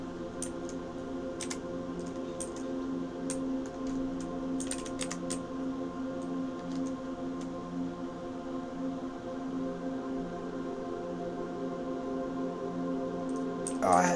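Typing on a computer keyboard at a PC running Space Engine, light scattered key clicks in short bursts over a steady background hum, fairly faint and close.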